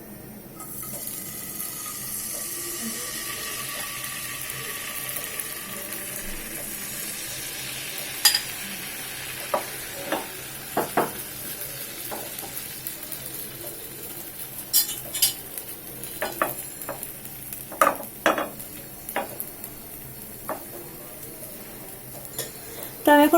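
Rested patishapta batter poured onto a hot pan, giving a steady sizzle with scattered clinks and scraping of utensils while someone speaks briefly.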